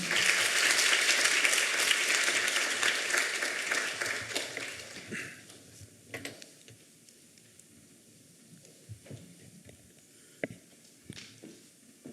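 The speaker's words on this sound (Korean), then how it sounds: "두 분 나오실 때 여러분 큰 박수 한번 부탁드립니다" A church youth congregation gives loud applause to welcome a guest missionary and a pastor, strong at first and then thinning over several seconds into scattered claps, shuffling footsteps and quiet room noise.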